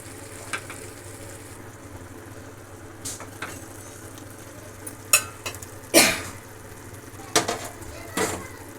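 Chicken fries in a pan over a medium flame with a low, steady sizzle, broken by several sharp clinks and scrapes of a utensil stirring against the pan.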